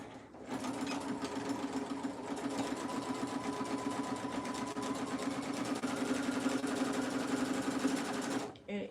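A sewing machine runs steadily and close up for about eight seconds without pause, stitching a half-inch seam on cow print shorts.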